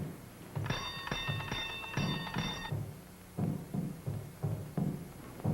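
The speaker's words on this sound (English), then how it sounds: "You ring the bell." A doorbell or electric bell in a 1941 black-and-white zombie film rings in two bright, buzzing bursts, followed by a series of dull knocking thuds at a steady pace, all carrying a light hiss of old film sound.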